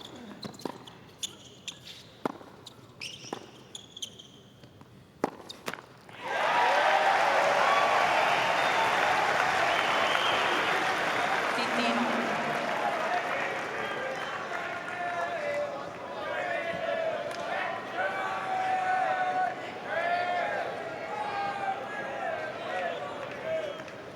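A few sharp ball bounces and thuds at a professional men's tennis match at the Australian Open, then a sudden swell of crowd applause that rolls on steadily with a commentator's voice over it.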